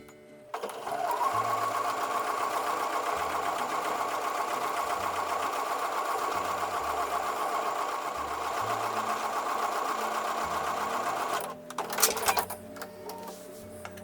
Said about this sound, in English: I'm going to take these over to the sewing machine and sew them together